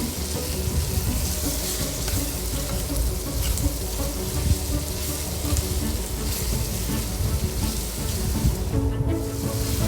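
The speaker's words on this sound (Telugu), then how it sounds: "ఇలా బాగా వీటిని ఫ్రై కానివ్వాలి" Ginger garlic paste frying in oil with turmeric for a tamarind leaf curry, a dense steady sizzle with scattered crackles and some stirring, moderately loud throughout.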